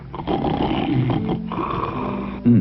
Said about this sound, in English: I really must be tired. I'm not asleep yet, but I'm snoring all right.